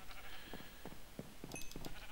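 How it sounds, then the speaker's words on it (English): Sheep in the Minecraft video game bleat in a quick series of about six short, soft cries at a steady rhythm, faint and close, with a brief high chime partway through. "Now, I don't really want these sheep."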